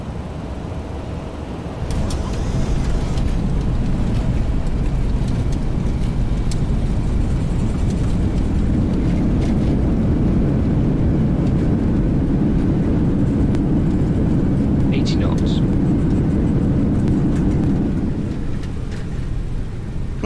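LevelUp RC 7F radio-controlled model aircraft flying, its small motor giving a continuous buzzing drone that swells and holds steady, heard from a moderate distance with faint wind noise.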